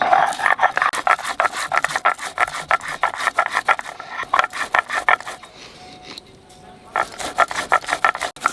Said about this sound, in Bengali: জিরে আর ধনে একসাথে বেটে নেবো।